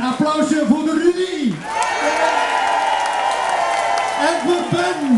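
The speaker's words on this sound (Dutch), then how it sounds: "Beste mensen, een applausje voor de Rudy." Party crowd in Wenduine bursting into cheers and applause for Rudy, rising after a spoken line and holding steady before talk returns at the end.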